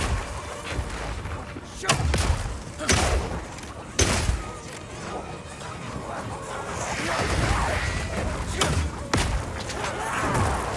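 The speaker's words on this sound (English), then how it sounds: "Firing one of these grenades coats the ground and nearby enemies in oil." Oil grenades fire in the video game Path of Exile 2, giving several dull, heavy thumps over a dense, continuous bed of game noise.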